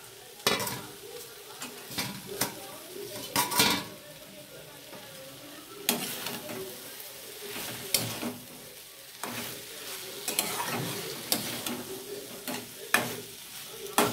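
Fried vegetables with paneer are stirred and cooked with spices in a pan, a low steady sizzle punctuated by frequent loud scrapes and knocks of a spatula, close up and without speech.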